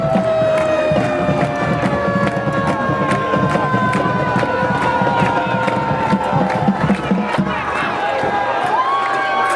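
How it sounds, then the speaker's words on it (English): A home crowd at a high school football game between the East Laurens Falcons and Johnson County Trojans cheers loudly and continuously, with sustained horn-like tones and shouting voices mixed into the roar. "the home crowd is excited right now, and rightly so"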